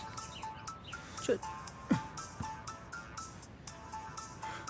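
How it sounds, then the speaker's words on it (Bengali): A phone ringtone chimes quietly in short repeating notes, with a couple of louder knocks and faint background voices mixed in. "আরে ফোন এসেছে অচেনা নাম্বার"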